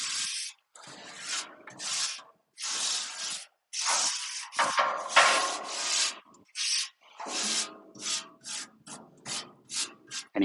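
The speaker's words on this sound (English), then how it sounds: "Any crusties that want to come off of that steel, just going to push them right down there." Metal scraper pushing crusted residue across a steel flat top griddle during seasoning, a run of rough rasping strokes with short pauses between them, close and fairly loud, with no talk.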